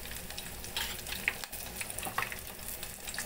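Raw lentils and garlic fry in a pan for palakura pappu, a steady close sizzle and crackle with a few faint clinks of stirring and no voices.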